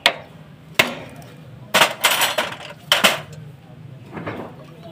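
Sharp metal hammer blows striking a seized bolt on a motorcycle during a timing chain change, about six distinct knocks spaced irregularly, close and fairly loud with some clanking ringing after each hit.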